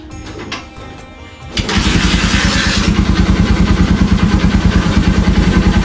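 A KTM Duke 250/390 motorcycle engine cranks briefly on a cold start, then catches and settles into a loud, steady, rapidly pulsing idle close by.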